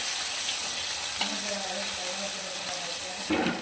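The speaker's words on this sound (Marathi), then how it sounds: "एक चमचा जिरं, कढीपत्ता, लसूण छान तळून घेऊया." Cumin, curry leaves and garlic frying in hot oil give off a steady, close sizzle and hiss, with a few brief stirring scrapes.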